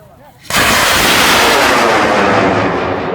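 A homemade Bun Bang Fai festival rocket ignites with a sudden loud blast, then roars with a sustained, powerful rushing thrust that fills the rest of the moment.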